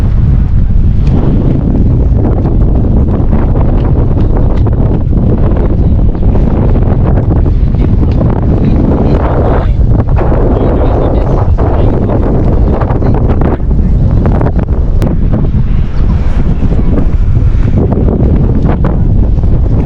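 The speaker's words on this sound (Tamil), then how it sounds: "காற்றுங்க கொஞ்சம் ரொம்ப அதிகமாக அடிக்குது." Strong wind buffets an outdoor GoPro Hero 10 Black microphone near sunset, producing a loud, constant roaring rumble throughout.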